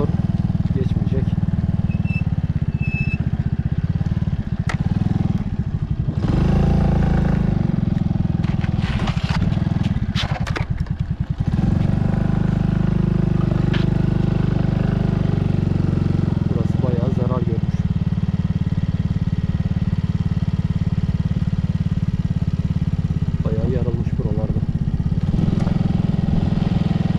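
Motorcycle engine running steadily close by while riding over ground broken and cracked by an earthquake near the East Anatolian Fault at Gölbaşı, Adıyaman, with clattering and scraping bursts and a few voices under the low drone.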